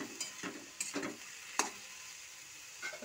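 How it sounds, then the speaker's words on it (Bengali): A fish head is turned slowly with spices in a pan, giving a few sparse scrapes and clicks of the spatula over a soft, low sizzle. "এবার আস্তে আস্তে আমি নাড়তে থাকবো।"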